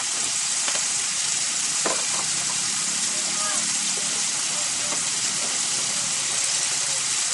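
Cabbage fries in a hot pan, giving a loud, constant sizzle with a few faint clicks and scrapes of stirring, close up and with no talk over it.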